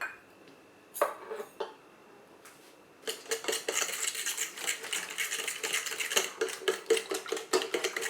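Egg and bread snack batter of onion, coriander, salt and water being mixed in a bowl, with repeated close clinks and scrapes of a utensil against the bowl in a steady, quickening rhythm.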